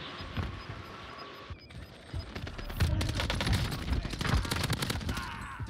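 Gunfire in Warzone, a few scattered shots followed by a dense, loud burst of rapid automatic fire in the second half, close and sharp, with faint talk underneath.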